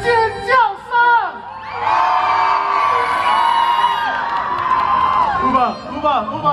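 A crowd screams and cheers loudly in a sustained swell lasting a few seconds at a Taiwanese opera troupe's stage show, with shouting voices just before and after.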